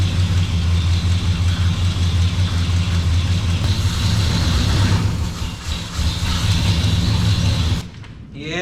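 A 1988 Chevrolet 3500 hauler truck engine runs at a steady, loud idle with a deep low rumble throughout, then cuts out abruptly near the end.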